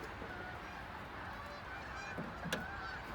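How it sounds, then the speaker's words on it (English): Geese honk at a distance against a steady outdoor rumble near a Versatile 895 tractor, with a sharper honk or two standing out near the end. "Damn geese over here. What the hell? Stupid geese. That's all you hear."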